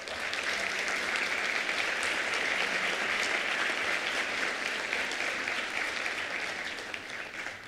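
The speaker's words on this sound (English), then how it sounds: "Please give a round of applause for Kai Joram." An audience applauding at a school band concert, a dense, sustained wash of clapping from a full room that holds steady throughout and begins to thin out at the very end.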